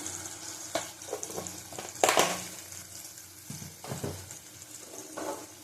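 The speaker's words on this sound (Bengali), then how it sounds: "ভালো করে কষিয়ে নেব।" Pea dal sautéing in a pan with water and turmeric, giving a soft sizzle with scattered stirring scrapes and one brief louder clatter, close up and without speech.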